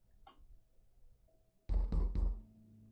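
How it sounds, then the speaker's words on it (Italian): Three heavy, forceful knocks pound on a door in the video game Omori. They come in quick succession after a quiet stretch with a faint earlier tap. "Bussano sempre alla porta con veemenza"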